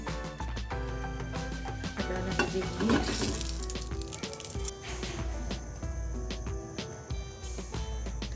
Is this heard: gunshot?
no